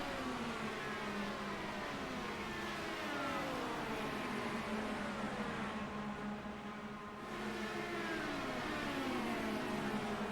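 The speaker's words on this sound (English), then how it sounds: "there's something about the sound of these engines" IndyCar engines racing at Indianapolis in iRacing, a faint continuous high-pitched whine of several cars with rising and falling pitch sweeps as they pass, steady and distant under a low hum.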